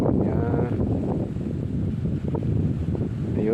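Steady wind buffets the microphone while fishing from a boat at sea, a continuous low rumbling roar with faint water movement underneath, loud and unbroken throughout.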